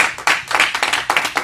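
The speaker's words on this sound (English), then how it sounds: "Give God a hand clap for praise." An audience at a live church service claps in praise, a quick run of sharp, irregular hand claps from a small group, close and loud, with no talking over it.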